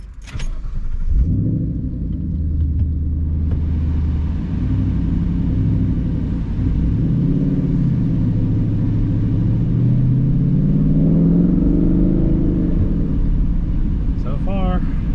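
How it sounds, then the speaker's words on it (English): Roushcharged Ford Mustang engine on a test drive, starting with a jangle, then a loud, steady low rumble and drone that rises and falls as it moves off, under continuous talking. "All right guys, we're going for the test drive,"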